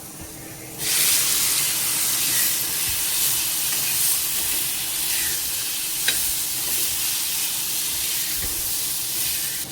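Onion, ginger, garlic and tomato sautéing in a hot pan give off a loud, continuous sizzle and hiss, close up and steady throughout, with a few faint spoon taps.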